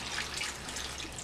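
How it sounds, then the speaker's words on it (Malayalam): Water poured from a cup into a cooking pot while making a jackfruit seed and drumstick thoran, a steady soft splashing stream for a little over a second at close range, with no talk. "ഇതിലേക്ക് ഇത് വേകുന്നതിന് ആവശ്യമായ വെള്ളം ഒഴിച്ചു"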